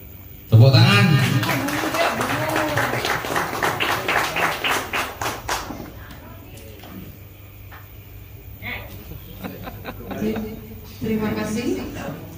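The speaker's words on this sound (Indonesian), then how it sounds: "Tepuk tangan." An audience claps at a Dragon Cruiser club general meeting as the new chairman takes over; a dense burst of hand claps mixed with cheering voices, loud at first, then thinning into scattered claps and chatter.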